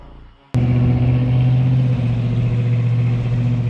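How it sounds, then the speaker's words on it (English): A Chevrolet Impala rolls through a Detroit street, its engine bursting in suddenly and close, then holding a loud, steady low rumble with a smooth droning tone for the rest of the clip. "Got the Impala rolling through."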